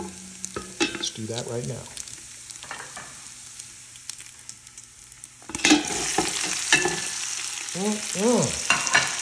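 Chopped onion goes into a pan of browned bacon and is stirred as it fries. Close scraping and stirring sit over a sizzle that grows louder about halfway through, and someone speaks briefly at the start.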